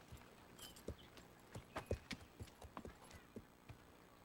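Horses walking on hard ground, their hooves clip-clopping in an uneven run of sharp knocks, fairly close and clear with no talk over them.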